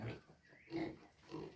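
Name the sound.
pig grunting, sow with newborn piglets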